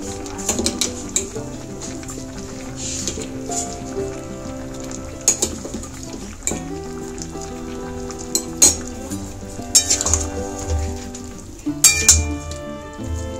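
Shukto vegetables with potato being stirred through spice paste in a pan, with repeated spoon clinks and scrapes against the metal over a steady soft sizzle, up close and without any talking.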